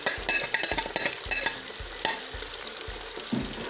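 Onions frying in a pan for pepper chicken, a quiet sizzle broken by repeated sharp scrapes and knocks of a spoon stirring against the pan, close by with no voices.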